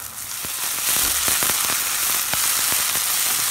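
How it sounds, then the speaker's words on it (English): Dried red chili sizzling in hot oil with frying fenugreek leaves, a loud, steady hiss peppered with sharp crackles and pops close by, no voices. "So now I'm adding the dried red chili."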